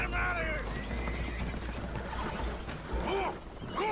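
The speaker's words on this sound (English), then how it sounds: "Horses are spooked." Spooked horses whinny aboard a leaking boat in the video game Red Dead Redemption, with a couple of shrill neighs near the end over a busy bed of water and background noise.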